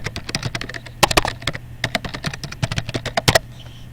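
Quick, uneven clatter of fingers typing on a computer keyboard, close and clear, with bursts of keystrokes and short pauses over a low steady hum.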